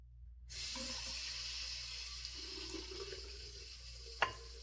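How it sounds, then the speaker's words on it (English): Tap water runs steadily into a Captain's Choice shaving bowl during a straight-razor wet shave, a soft continuous splashing rush with a small clink near the end, fairly quiet and without speech. "Get a little water in there."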